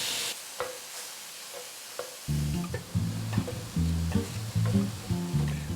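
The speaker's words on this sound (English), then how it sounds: "Now we can brown and cook the ground turkey. This is lean ground turkey." Lean ground turkey browns in a hot pan, a steady sizzle joined by repeated scraping stirs from a utensil after a quiet start.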